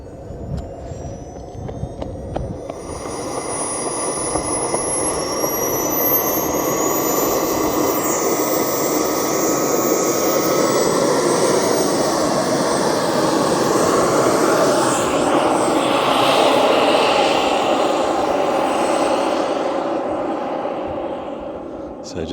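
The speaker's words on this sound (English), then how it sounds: "Little jet turbine." A small jet turbine on an RC car making a slow test pass: a loud, steady roaring whine with a rising high-pitched turbine tone that builds, holds, then fades as it passes.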